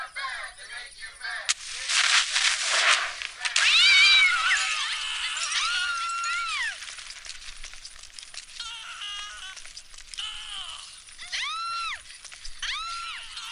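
Cat meowing in the video game Postal 2, a series of repeated close meows and yowls alongside bursts of game noise and faint distant cracks.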